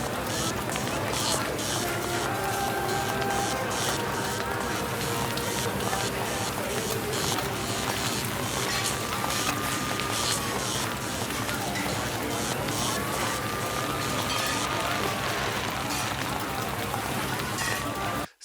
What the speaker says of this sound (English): And we've got the umbrella sound as the camera moves in.